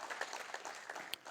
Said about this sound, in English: And let's give them a round of applause for being a finalist and awardee.